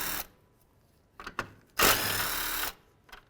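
A power drill backs out bolts on the radiator support bracket of a 2015-2019 Hyundai Sonata, first in two short, sharp bursts and then in a louder sustained whir of about a second, followed by a faint click.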